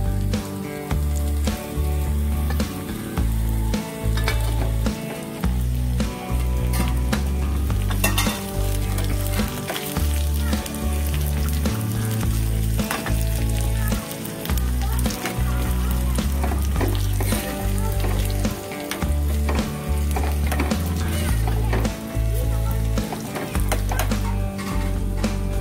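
Curry leaves sizzle and crackle in hot oil while being stirred in a pan for a Kerala-style taro curry, a steady frying hiss broken by the repeated scrape of a spoon.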